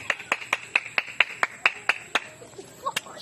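One person claps hands outdoors among pigeons, about a dozen sharp, evenly spaced claps close to the microphone, slowing and thinning toward the end, with faint background sounds between them.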